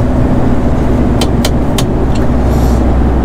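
A car travels along the B10 road toward Landau, with loud, steady interior road and engine rumble and a few brief clicks and ticks over the constant drone.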